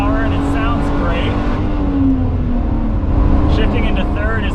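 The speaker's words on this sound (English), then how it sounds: "the Busso engine's got, you know, enough respectable power, and it sounds great." 1985 Alfa Romeo safari rally car with a Busso engine, driving and pulling through the revs in the desert, a loud steady engine drone that gradually shifts pitch and rises, with someone talking over it.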